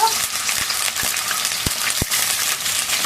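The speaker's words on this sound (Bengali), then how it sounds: "প্রথমে কড়াইতে তেল দিয়ে দিলাম। এখানে আমি গরুর মাংসটা দিব।" Beef frying in hot oil in a wok gives a loud, continuous sizzle close by, broken by several sharp knocks of a spatula stirring against the pan.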